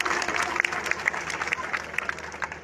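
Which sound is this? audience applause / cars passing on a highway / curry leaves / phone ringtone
audience applause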